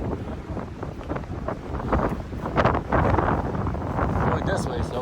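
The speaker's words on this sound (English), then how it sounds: "I want to go to the area with less wind." Strong gusty wind blowing on a mountain summit, buffeting the microphone with a loud continuous roar that swells and rises toward the end.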